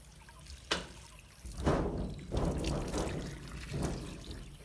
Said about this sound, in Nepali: यता पानी भाडामाल पोख्यो।